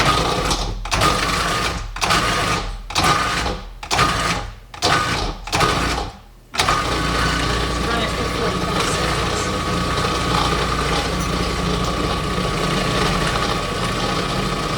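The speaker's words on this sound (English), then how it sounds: "I'm going to run the machine for about 45 seconds." Food processor working carrot cake batter, first a series of short pulses, then a continuous loud whirring run that holds steady to the end.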